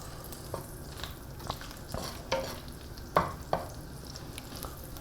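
Smashed garlic cloves fry in a pan, a soft steady sizzle broken by the scrape and clack of stirring, several distinct knocks against the pan, close and alone.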